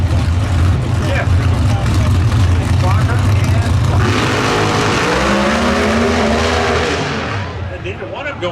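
Pro Stock drag racing cars at the NHRA Winternationals roar loudly at full throttle, the engine note wavering as the tires shake, then fading into the distance while a commentator talks over it.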